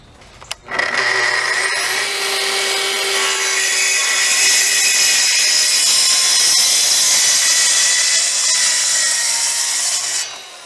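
A power tool trims wood on a door being adjusted so it closes less tightly, a steady, loud, continuous grinding whine running for about ten seconds with a brief start and stop, no talking.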